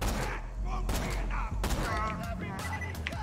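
Borderlands 2 gunfire: several quick, punchy shots and bursts over a low game rumble, close and fairly quiet, with a player's voice talking over the shooting.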